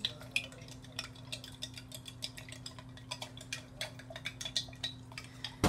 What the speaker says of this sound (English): I'm going to use my spoon, and I'm going to stir up my mixture here